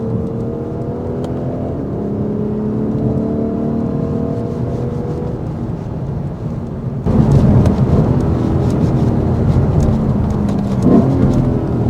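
A Lexus RC F on a race track powers out of a corner, its loud engine note rising steadily, then surging harder with a sharp jump in intensity partway through, close and continuous with no talk.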